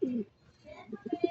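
Soft, low cooing from a pigeon close by, a short series of gentle pulsing coos after a brief murmur.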